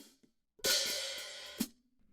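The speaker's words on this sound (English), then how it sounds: "a hi-hat opening is when you make contact with your hi-hat and you lift your foot off of it" A single drum-kit hi-hat opens with a bright, sizzling wash that rings for about a second before snapping shut, with soft taps around it.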